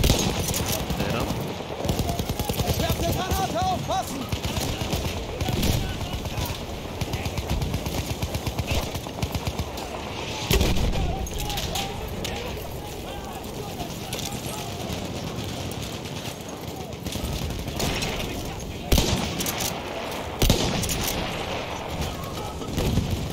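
Sniper rifle shots in Battlefield 1 multiplayer mountain warfare, sharp reports ringing out at intervals over a busy battle din of distant gunfire, with someone talking over it.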